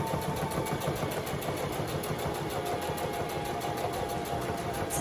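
A sewing machine runs a basic straight stitch through folded fabric. Its even, rapid mechanical whir holds at a constant close level with no pauses and no talking.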